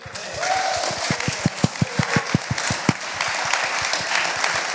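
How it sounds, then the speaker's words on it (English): Audience applause after an AI panel discussion: a modest crowd claps in a room, with sharp individual claps standing out near the front, swelling briefly before thinning to scattered claps. "David thanked the panel, but a massive round of applause for David."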